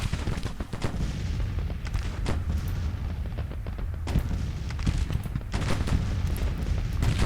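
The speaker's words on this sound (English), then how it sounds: "We can see that the enemy artillery is starting to shell our positions." Enemy artillery shells a Civil War battlefield in the strategy game Grand Tactician: The Civil War, a steady barrage of booming cannon fire and rumbling impacts packed closely together, loud and continuous throughout with no talking.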